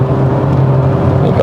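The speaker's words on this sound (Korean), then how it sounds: "엔진 소리가 대략 한 3500 rpm을 넘어가면 그때부터 소리가 좀 달라지는데" A 2024 Renault Arkana 1.6 GTe hybrid revs hard past 3500 rpm while driving, a loud, steady engine drone with road rumble heard from inside the cabin.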